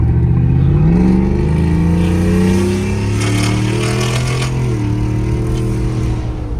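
A Ford Mustang 5.0 with SPD high-flow cats and a Corsa Extreme exhaust revs hard, its loud, deep engine note climbing, falling and surging again, up close with no talking.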